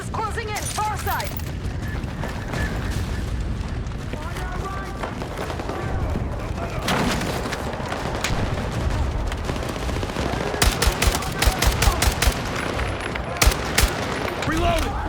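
Gunfire in Battlefield 6 during a night raid mission: dense bursts of shots, rapid volleys and crackling impacts over a rumbling game soundscape, with a run of sharp single shots near the end.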